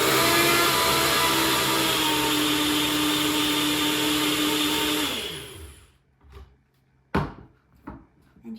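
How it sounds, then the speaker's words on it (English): A blender whirs steadily on a keto berry bowl mix with sweetener, running loud and constant for about five seconds before winding down, followed by a few light clatters and knocks. "I'm gonna put the lid back on and give it one more blend"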